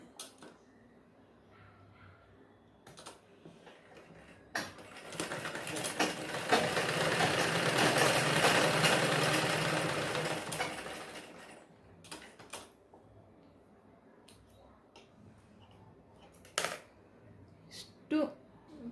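A sewing machine stitches the sleeve onto a blouse in one run of several seconds, a close whirring that rises and fades, bracketed by sparse clicks and handling of the fabric.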